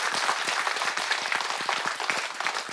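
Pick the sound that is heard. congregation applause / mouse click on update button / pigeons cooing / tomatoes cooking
congregation applause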